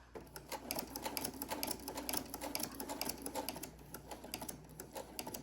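Sewing machine stitching a quilted pot holder, a steady rapid mechanical clatter running continuously and close up, with no talking.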